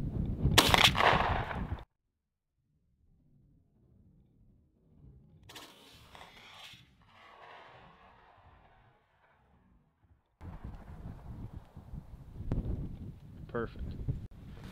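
A shotgun loaded with lead shot fires at targets outdoors, giving one loud close blast at the start. Gusty wind noise and a voice follow.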